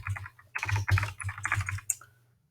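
Code being typed on a computer keyboard, a quick close run of crisp key clicks in uneven bursts that stops after about two seconds, with no talk.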